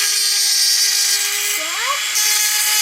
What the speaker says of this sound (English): The Dremel didn't like it